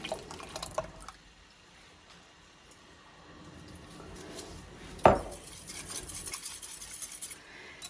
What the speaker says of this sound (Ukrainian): перемішуємо. І все, заливка наша готова.